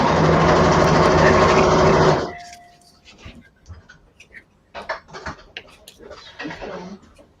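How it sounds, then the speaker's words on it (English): A sewing machine runs loudly and steadily for about two seconds, then stops, followed by quiet handling clicks and soft sounds of an art workspace, with speech in the background. "I'm using the sewing machine"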